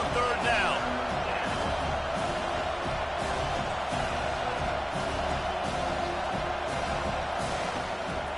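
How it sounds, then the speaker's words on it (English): Dense, steady roar of a stadium crowd at a Dynasty vs Louisville football game, swelling on a third-down defensive stand, with a continuous wash of voices and whoops filling the whole stretch. "Decibels rising as the crowd gets behind this defense on 3rd down."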